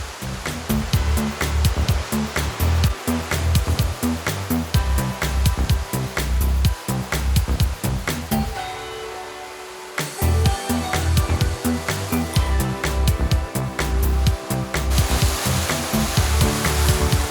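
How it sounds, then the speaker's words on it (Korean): High, strong sea waves crash on the shore of Geoje Island, a loud, continuous roaring wash with pulsing surges, briefly easing in the middle before the heavy rumble returns. "보시는 바와 같이 파도가 상당히 높고 세게 치고 있습니다"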